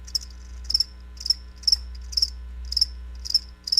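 Crickets chirp in a steady, evenly spaced rhythm of short high trills, about seven in a row, over a faint low hum with no talking.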